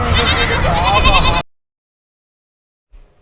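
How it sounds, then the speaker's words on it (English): Goats bleating loudly and close by in a cluster of wavering, overlapping calls for about a second and a half, then silence; the animals are out along a street doing wildfire-prevention grazing. "These goats so cute."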